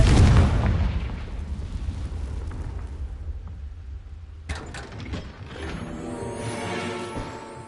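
A Confringo blasting spell exploding in Hogwarts Legacy, one loud booming burst at the start that rumbles and fades, followed by softer magical shimmering effects.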